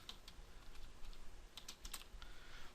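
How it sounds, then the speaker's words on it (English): Quick bursts of typing on a computer keyboard, light clicky keystrokes in short irregular runs, close and fairly quiet with no voices. "I'm going to type in analytics."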